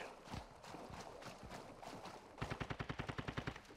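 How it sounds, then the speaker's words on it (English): Gunfire crackles in a video game near Sawah Village, faint scattered shots followed by a rapid automatic burst of about a dozen evenly spaced rounds, distant and quiet. "Where they shooting at?"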